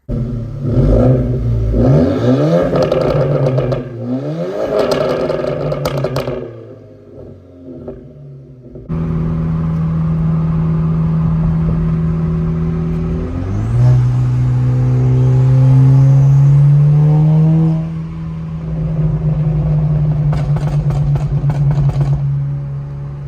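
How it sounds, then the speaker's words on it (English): An Audi drives at night with its engine rumbling and rising through revs, rough crackling pops breaking out at times through the exhaust. The car is loud and close, with a brief quieter lull partway through. "I have more on the inside of nighttime driving for the pops going off"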